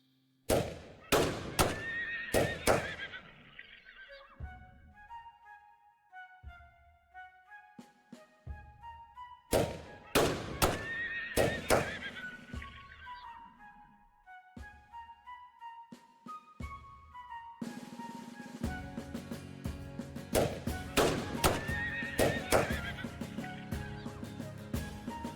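Horses in the FreeCol strategy game, a Spanish artillery battle against natives, give several loud synthetic whinnies among thuds and game effects, with busier layered battle sounds toward the end.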